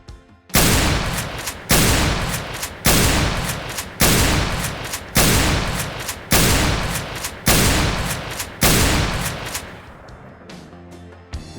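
Shotgun in Halo Infinite firing about seven loud booming blasts at a slow, even rhythm, each shot followed by a decaying tail before the next, then a quieter mechanical rattle at the end.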